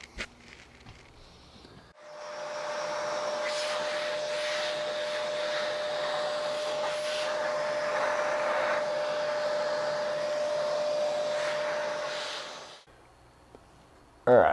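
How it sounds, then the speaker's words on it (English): A vacuum cleaner cleaning a custom guitar body roars steadily for about ten seconds with a constant whine, starting and stopping abruptly, close and loud. "All right, let's vacuum it."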